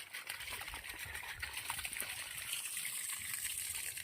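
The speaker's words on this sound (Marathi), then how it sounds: "ए कॉक खाली सुरू राहिला" Tap left running outdoors at a farm soybean field, water pouring steadily as a continuous hissing trickle, fairly faint and unbroken throughout.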